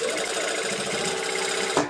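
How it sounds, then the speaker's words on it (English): Sewing machine running steadily as it stitches along a folded fabric edge, a close continuous whirring hum that stops abruptly near the end. "And this time I'm sewing right on the fold."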